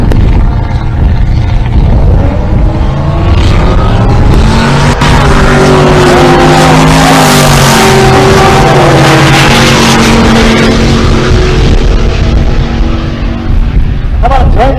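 Chevrolet Silverado pickup making a drag racing run at Pueblo, Colorado, its loud engine climbing in pitch through several gear changes and then receding, with an announcer talking over it.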